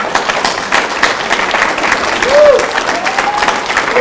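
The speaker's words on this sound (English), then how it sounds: "please clap" Loud applause from guests at a bar mitzvah service, brisk and close with individual claps standing out, plus a brief whoop or voice partway through.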